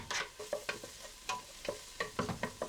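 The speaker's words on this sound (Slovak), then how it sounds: "Na olivovom oleji urestujeme cibuľu, osolíme a po chvíli prihodíme cesnak." Onion and garlic sautéing in olive oil in a pan, with repeated stirring scrapes and soft sizzling in bursts, close and moderately quiet, no talking.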